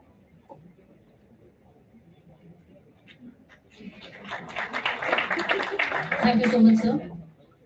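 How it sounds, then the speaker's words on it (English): Audience applause at an international conference ceremony, starting faint under a speaking voice, then swelling into a few seconds of steady clapping that peaks and fades. "Let's have a huge round of applause for Ayush Mangal"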